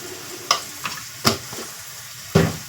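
Turmeric and spices are stirred in a hot pan for an aloo paratha filling: four distinct scraping strokes of a spoon over a faint, steady sizzle, close and clear.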